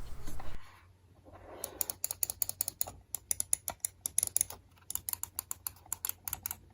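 Rapid, crisp clicks from the buttons of a Razer DeathAdder Essential gaming mouse, close and quiet, coming in quick irregular bursts with short pauses and no talking.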